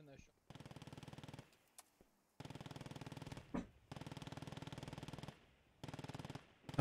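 Sustained machine gun fire in a military video game comes as long, rapid, even bursts separated by short pauses, with a few isolated single shots between them, fairly loud and close.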